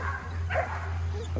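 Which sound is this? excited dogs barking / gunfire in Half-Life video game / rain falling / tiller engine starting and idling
excited dogs barking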